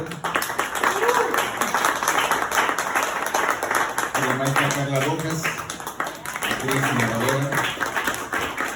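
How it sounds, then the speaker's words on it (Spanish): Audience applause at a literary event, steady clapping filling the room throughout while a speaker's amplified voice talks over it. "Un aplauso."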